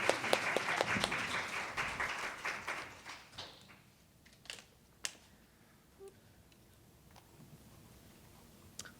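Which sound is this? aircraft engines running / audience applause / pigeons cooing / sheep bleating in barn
audience applause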